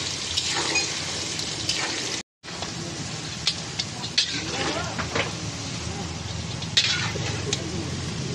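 Ingredients frying in a pan give a continuous crackling sizzle at close range, broken by one brief silent gap partway through.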